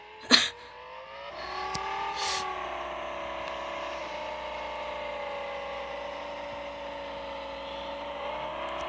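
A car accelerating in a video game, with a rising engine tone after a sharp knock at the start, then a steady droning whine that holds at moderate loudness with no talking.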